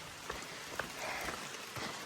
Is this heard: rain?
yes